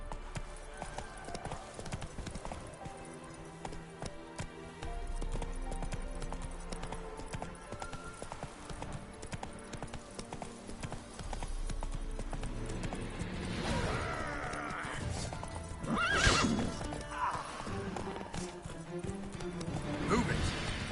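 The horse Roach from The Witcher 3 gallops with rhythmic hoof clip-clops over game music, then lets out a loud neigh; a voice talks over parts of it.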